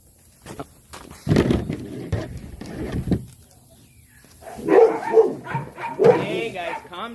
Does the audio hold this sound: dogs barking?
yes